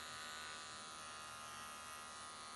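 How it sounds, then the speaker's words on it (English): An electric dog clipper buzzes steadily and close while trimming the hair under the eye of a Bichon Frise, a continuous whirring hum. "I just use the edge of my clipper, and I just kind of clean out just that little pocket on the underside of the eye"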